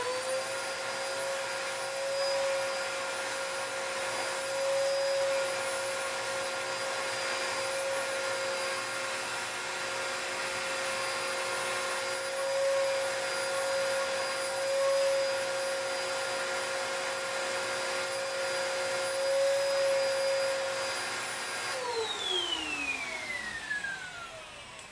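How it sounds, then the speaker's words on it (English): A vacuum cleaner runs steadily over carpet samples, a loud continuous whine with a strong tonal hum that holds for over twenty seconds before winding down at the end. "let me vacuum them. It's going to get a little noisy here."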